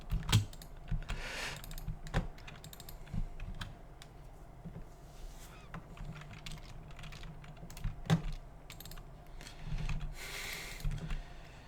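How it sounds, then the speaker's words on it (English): Soft tapping on a non-mechanical computer keyboard, quiet and irregular, with scattered louder clicks over a low room hum. "if you hear keyboard sounds in the usual podcasts, it's generally me. And it's not a mechanical keyboard."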